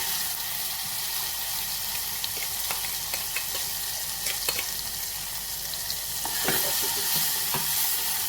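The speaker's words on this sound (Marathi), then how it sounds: "आता हे वाटण आपण तेलात परतून घेऊया" Ground spice paste sautéing in hot oil for a potato curry, giving a steady close sizzle with scattered clicks and scrapes of a spoon stirring through it, and a brief louder burst near the end.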